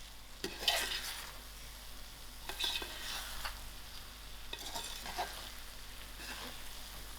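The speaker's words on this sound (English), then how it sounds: "So I'm going to give this a gentle mix." Tomato rice with melted butter being gently mixed in a pan: soft, quiet sizzling under a few brief bursts of spoon stirring and scraping.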